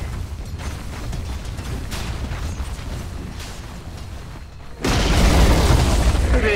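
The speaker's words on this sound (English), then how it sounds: "Radiant's middle tower has fallen." Dota 2 middle tower under attack and falling: repeated muffled impact booms and mechanical thuds, then a sudden loud crashing collapse with broad rumbling debris near the end.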